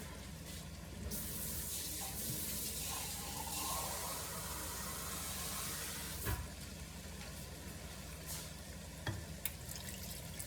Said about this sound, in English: Now let me add some water.